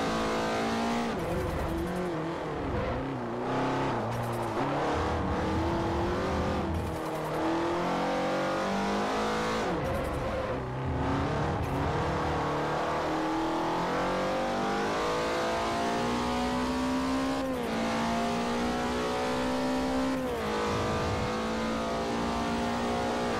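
Race car engines roar and rev continuously in the video game Forza Motorsport 4, with repeated gear-shift pitch climbs and drops and occasional tire squeal, loud and unbroken throughout.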